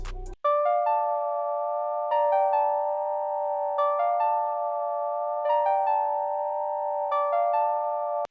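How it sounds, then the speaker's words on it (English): An Arturia OB-Xa software synth on the Beauty Heart preset plays a simple progression of two chords that alternate in a steady, repeating pattern, clean and sustained with no other sounds. "So I picked this Beauty Heart preset and I went and laid down this chord progression."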